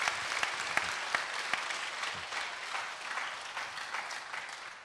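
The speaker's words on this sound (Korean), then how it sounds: "우리 성령님께 감사 박수 한번 올립시다." Audience applauding at a Korean church evangelism meeting, a dense, sustained wash of many hands clapping together with scattered sharper claps, loud and steady throughout.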